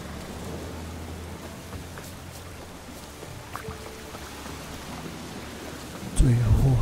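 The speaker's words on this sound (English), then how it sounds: "Looks like rain." Steady rain and low rumbling thunder in the fantasy game The Witcher 3: Wild Hunt, a continuous wash of rainfall with a louder, deeper burst near the end.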